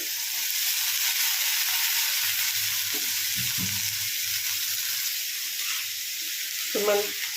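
Pieces of brinjal, soaked in salt water, hiss and sizzle steadily in a hot pan, with a few scrapes and knocks of a spoon stirring them.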